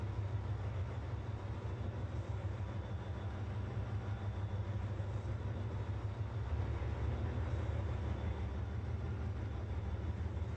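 A train in the Trainz simulator game rumbles through a short tunnel, a low, steady, muffled rolling drone with faint rail noise, quiet and continuous with no voices.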